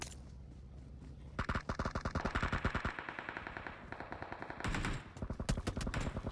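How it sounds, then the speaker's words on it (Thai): Rapid bursts of automatic gunfire in PUBG Mobile crackle continuously, shot after shot in fast rhythmic strings, loud and close with brief pauses between volleys. "เสียงปืนรอบด้านเลยนะทุกคน"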